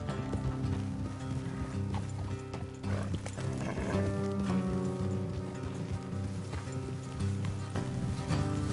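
Steady clip-clop of horse hooves walking in the video game Red Dead Redemption 2, with an occasional snort, over a constant musical background.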